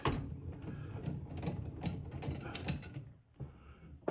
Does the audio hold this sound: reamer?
yes